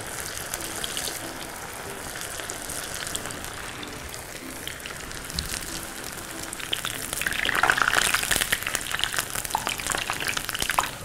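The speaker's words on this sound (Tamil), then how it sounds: "எண்ணெய் சூடாயிருச்சு, இப்போ நம்ம இந்த உருண்டை உருட்டினதை வந்து நம்ம அப்படியே எண்ணெயில் போட்டுக்கிறோம்." Balls of poha, potato and gram flour deep-frying in hot oil give a steady, dense sizzle and bubbling hiss that swells louder around the middle, with no talking.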